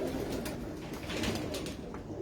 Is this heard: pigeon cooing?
yes